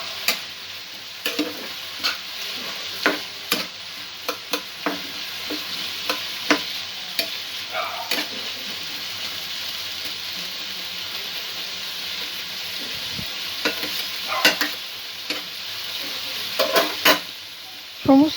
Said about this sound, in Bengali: সমস্ত উপকরণগুলো 2 থেকে 3 মিনিট অল্প অল্প করে ভাজা হতে থাকবে